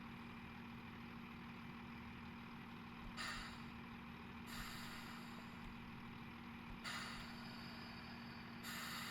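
Air brakes hiss in bursts on a train pulling along a platform on the Settle to Carlisle line in a train simulator game, with several loud broadband releases over a steady low engine idle and hum.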